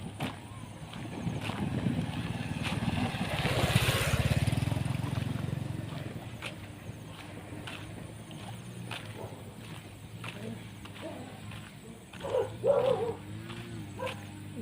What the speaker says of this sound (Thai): เสียงตัดหญ้านะคะ